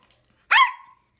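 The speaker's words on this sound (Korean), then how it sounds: "아이고 밥 달라고 짖네요" A dog lets out one sharp, close bark begging for food, short and loud against an otherwise quiet room.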